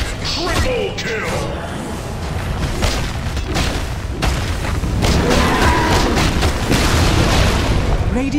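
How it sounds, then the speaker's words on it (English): Crashing, booming destruction as a tower falls during a Dota 2 match, dense and loud with layered impacts and battle effects, mixed with an announcer's voice speaking over the game sounds. "Radiant's middle tower has fallen."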